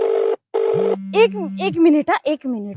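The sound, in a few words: mobile phone ringing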